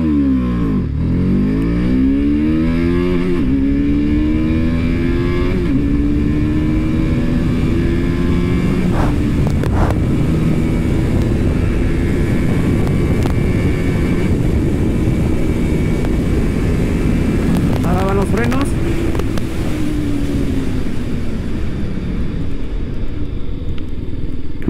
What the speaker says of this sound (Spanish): una prueba de aceleración. Vamos a ver qué tal lo hace esta TBS.